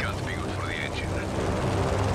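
A plane's engine in the Just Cause video game, a continuous loud droning rumble with a low, steady hum, overlaid by a player talking throughout.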